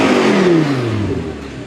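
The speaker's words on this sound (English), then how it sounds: "it would be rude not to listen to that V10 soundtrack" An Audi R8 V10 engine gives a single loud, close rev that peaks early and then falls steadily in pitch as the revs drop away.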